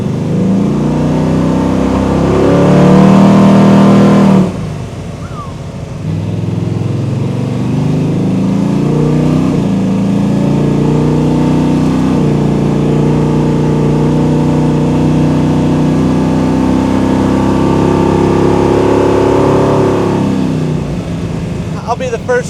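A 1972 Chevrolet Chevelle SS with a 540 big-block engine accelerates on a cold day, a loud close rising roar with a brief harder burst, then a long steady pull that fades near the end.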